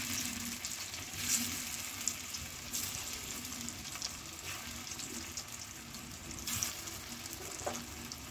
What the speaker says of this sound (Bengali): তেলটা গরম হয়ে গেছে এবার ধোকাগুলো দিয়ে দেবো